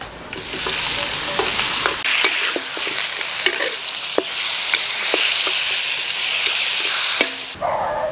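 Beef stir-fries in a pan with garlic and ginger, sizzling loudly and steadily while a utensil taps and scrapes the pan in scattered clicks. The sizzle cuts off suddenly near the end.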